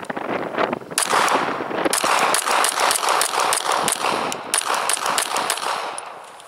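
A 9mm Glock 26 compact pistol fitted with an XGRIP grip extension fires a quick string of sharp, loud shots in an irregular rhythm, each crack distinct and close.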